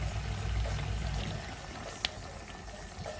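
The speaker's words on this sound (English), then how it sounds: "So the way I make my adobo is I put the vinegar first." Vinegar poured into a pot for chicken and wild pork adobo, a soft continuous liquid splashing with a low rumble underneath and one small clink partway through.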